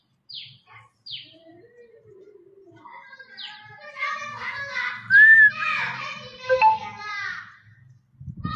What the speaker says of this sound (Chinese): 有鸟儿叫，你们听得到吗？